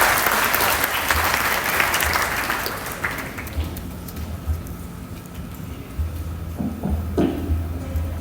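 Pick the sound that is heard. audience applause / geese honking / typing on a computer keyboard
audience applause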